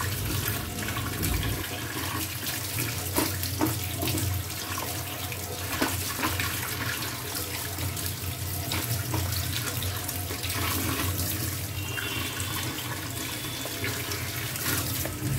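Tap water pours steadily into a sink while vegetables are washed, a continuous, fairly loud rushing splash that runs without a break and with no talk over it.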